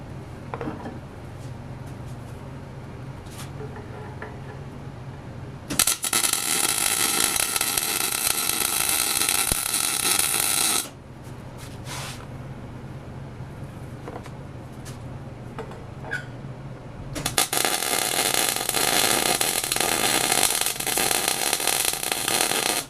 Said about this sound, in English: So time to weld her up here.